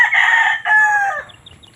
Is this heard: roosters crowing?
yes